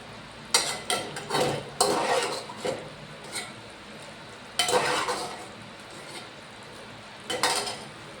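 Chana dal sizzles in a hot pan while being stirred, with a steady frying hiss under scraping strokes of a spoon coming in irregular bursts, close and clear.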